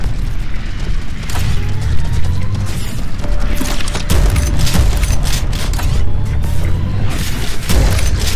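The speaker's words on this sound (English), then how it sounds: "Shoot the explosive barrel." Heavy booming blasts and crashing impacts fill combat in the Prodeus first-person shooter, with an explosive barrel going off amid repeated loud hits and mechanical clatter.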